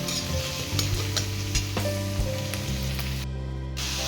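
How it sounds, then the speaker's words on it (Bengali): Crushed garlic fries in a pan with a dense, continuous sizzle and crackle, close and steady throughout, with occasional light stirring clicks and scrapes and no voices. "রসুনগুলো থেতো হয়ে গেছে, এবার ভালো করে এটা ভেজে নেবো"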